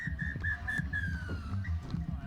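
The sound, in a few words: referee blowing the final whistle at rugby sevens match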